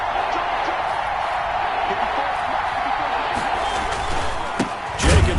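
Stadium crowd noise rises in a steady, loud roar during a football video game as a big third down approaches, with a sharper burst of cheering near the end.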